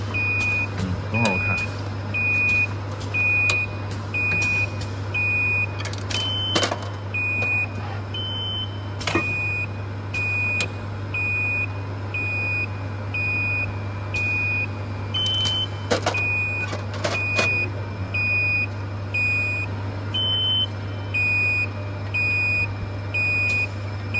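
Repeated electronic beeps from a glass syringe filling and sealing machine's alarm, short tones recurring in clusters over the steady hum of the running machine, with people talking nearby.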